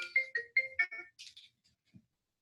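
A mobile phone plays a melodic ringtone, several quick rising electronic notes close by and fairly loud, then it breaks off into silence.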